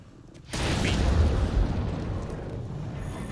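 A bomb detonates in Monster Hunter World, setting off a sudden loud, low boom that rumbles on for several seconds before slowly fading.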